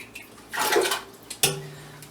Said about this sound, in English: Fill the biggest soup pot you have about halfway with water.